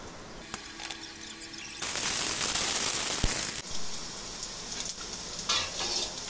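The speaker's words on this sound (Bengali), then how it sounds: "তেলটি গরম হয়ে গেলে পেঁয়াজ আর কাঁচা ঝাল ভেজে নেব" Onions and green chili sizzle and spatter loudly in hot oil, swelling into a bright, intense hiss midway before settling back to a steady crackle, with no voices.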